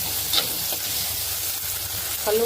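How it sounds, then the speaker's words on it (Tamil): Tomatoes with rock salt sautéed and stirred in a pan, a continuous bright frying hiss with a few soft scrapes, close and steady over a short stretch, no voices. "தக்காளி போட்டோம் ஸோ கொஞ்சம் கல்லுப்பு போடலாம் நல்லா வதக்கிக்கலாம்"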